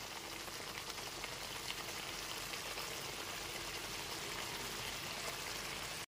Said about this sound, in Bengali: এরপর এর মধ্যে ভেজে রাখা পটলের টুকরোগুলোকে দিয়ে দেব।